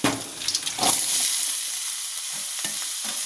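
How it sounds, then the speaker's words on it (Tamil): Potato pieces drop into hot oil with garlic for a simple potato fry, setting off a steady, close sizzle with stirring clatter, a louder burst near the start, then continuous frying hiss throughout. "இப்போ உருளைக்கிழங்கு கொட்டிக்கலாம்."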